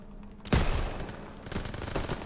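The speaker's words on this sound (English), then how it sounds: "MG's open fire." A sudden burst of rapid gunfire from machine guns in a Call of Duty: World War 2 battle erupts after near silence, continuing as loud overlapping volleys close by.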